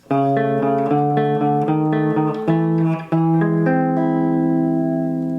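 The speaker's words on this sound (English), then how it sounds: "Turnaround number 3 is going to sound like this." A blues turnaround played on guitar: a short run of clear, ringing notes that steps down and resolves, with a final chord left to ring out alone.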